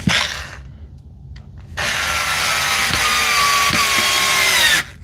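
A power drill drives a screw into a workpiece, heard as a brief buzz followed by a pause and then a long, loud, steady whirring run that stops abruptly, close by with no talking.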